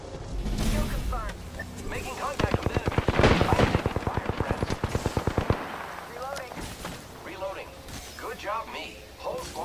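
Rapid automatic gunfire in the video game Apex Legends, a dense burst of loud, evenly spaced shots lasting a few seconds, set among other game sounds and voices talking over it.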